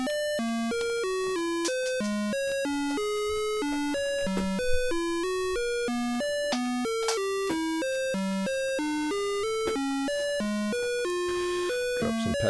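A modular synth sample-and-hold module, fed by an LFO as its source, steps through pitched tones that climb and fall in a regular staircase pattern, with an even rhythm and no voices.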